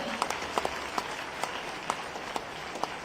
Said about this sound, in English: applause could be a little more louder, ladies and gentlemen